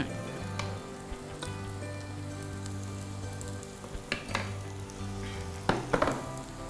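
Garam masala paste fries in a pan with salt and vegetables, giving a steady close sizzle, with a few stirring scrapes and clinks near the end.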